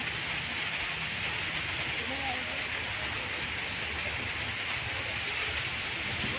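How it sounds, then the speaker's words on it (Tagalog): Steady rain falls on surfaces during an outing to a secondhand clothing market, producing a dense, constant hiss, with faint voices talking underneath. "Umuulan,"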